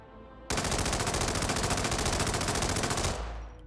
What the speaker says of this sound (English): The Tac and Yellow assault rifle, which is nearly identical to the Tac 4 AR Mark II